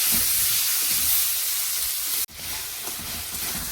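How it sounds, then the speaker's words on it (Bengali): A spice paste of chilli, cumin and coriander powder fries in oil, making a loud, continuous hissing sizzle close by. The sizzle cuts out abruptly for a moment, then resumes slightly quieter. "ভালো করে মশলাটা ভাজা হয়ে গেছে, তেল ছেড়ে দিয়েছে"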